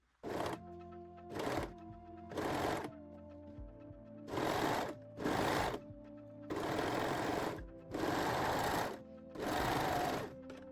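A sewing machine stitches a side seam on high-waist panties in six or seven bursts of fast mechanical whirring, each a second or so long and separated by short pauses, close and clear with no voices.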